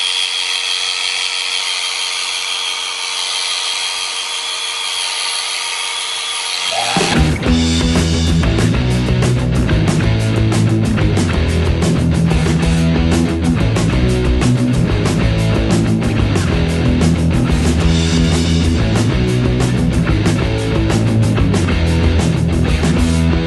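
An electric clipper shearing a goat's hair starts as a quiet steady hum, then bursts into a loud, close, continuous buzzing drone that runs unbroken to the end.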